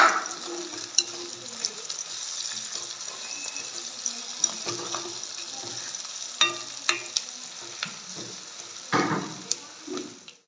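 Salted plantain pieces sizzle steadily in oil in a pan, with repeated scraping stir strokes and a few sharper clinks near the end, close and moderately loud.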